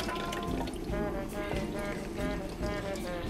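Tamarind water poured into a Thai-style dipping sauce for meatballs, a steady close liquid stream running continuously for a few seconds with faint kitchen clatter and no talk.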